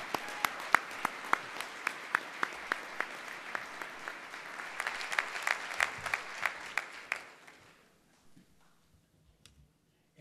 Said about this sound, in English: How about another round of applause for Bobbie Staten?